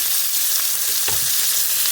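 A sliver of real butter sizzling steadily in a hot pan, a dense bright hiss with one soft clink of a utensil partway through.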